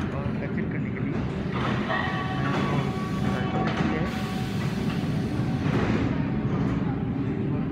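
A Berlin U-Bahn train rolls along steadily with a loud, constant rumble and rattle inside the carriage, plus a faint tonal whine over the continuous rail noise.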